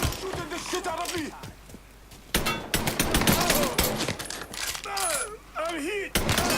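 Gunfire during a shootout in the video game Mafia 3, sharp shots and bursts scattered throughout, mixed with in-game character shouting and a player's voice talking over the action.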